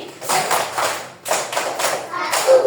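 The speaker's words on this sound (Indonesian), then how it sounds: "Tepuk tangan 5 1 kali." A first-grade class claps a set pattern together, two short bursts of several claps each followed by a third group, close and fairly loud in a classroom.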